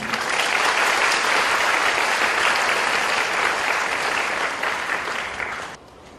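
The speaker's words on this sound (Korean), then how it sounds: "여러분의 박수로 선생님 강연석으로 모시겠습니다." Sustained audience applause at a book concert lecture, dense and steady clapping from a sizable crowd for about six seconds, fading slightly before stopping abruptly near the end.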